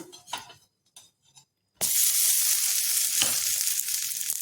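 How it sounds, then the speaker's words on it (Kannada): A vegetable pan bun is turned in hot oil. A few soft clinks in near quiet give way to a sudden loud, steady sizzle that carries on close up to the end. "ಇವಾಗ ತಿರುವು ಹಾಕ್ತೀನಿ"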